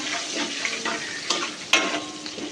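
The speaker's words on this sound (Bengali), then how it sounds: "এবার আমি ক্যাপসিকামটা দিয়ে দেবো।" Capsicum pieces fry in hot oil in a pan for a dry-style potato curry (kosha aloo dum): a steady close sizzle with a few sharper stirring clatters, no talking.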